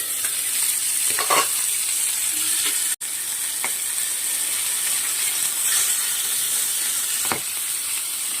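Pieces of aar fish fry in hot oil under a lid, giving a steady, loud sizzle and hiss that carries through the whole stretch with a few brief crackles and one sharp break, and no one speaks.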